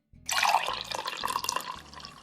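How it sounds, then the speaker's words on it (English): Pomegranate wine poured over chopped vegetables and mushrooms in a bowl, a short close splash and trickle that starts abruptly and continues briefly with no voices. "Pour the pomegranate wine over these vegetables."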